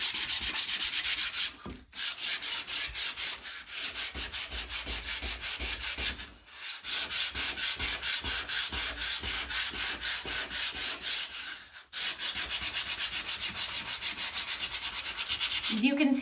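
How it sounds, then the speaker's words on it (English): Hand sanding of a wooden craft board for a St. Patrick's Day piece, a steady scratchy back-and-forth rubbing in quick regular strokes, close and loud, broken by three short pauses. "Let me sand it, and I'm gonna show you"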